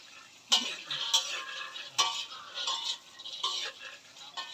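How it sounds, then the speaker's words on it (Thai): Peanuts being stirred as they dry-roast in a pan, giving a few sharp scrapes and clinks of a utensil against the metal under a soft, steady rattle of nuts. Close by and fairly quiet. "เราจะคั่วถั่วไป"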